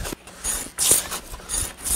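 A hand plane strokes across a large wooden tabletop close up, producing short, airy shearing swishes in a quick, uneven rhythm with brief pauses between passes.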